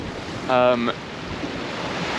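Rough, confused sea in the English Channel during 30-knot squalls hisses and rushes around a sailing boat, a steady broad wash of water and wind, with a short tonal voice-like sound briefly over it.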